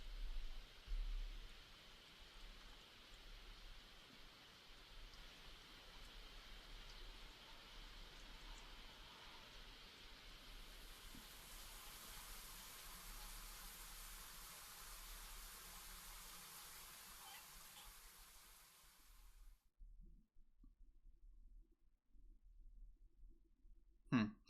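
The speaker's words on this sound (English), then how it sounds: "the sound transitioned from the sound of rain to the sound of a shower" Soft, steady rain hiss in the video game SeaBed turns midway into a brighter, denser shower spray, then cuts to near silence with a faint knock at the end.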